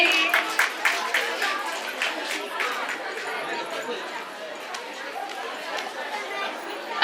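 Applause and crowd chatter fill a hall at a government school's annual function, with scattered claps loudest at first, then a murmuring audience while a voice speaks over it.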